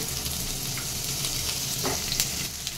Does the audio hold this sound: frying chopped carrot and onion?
yes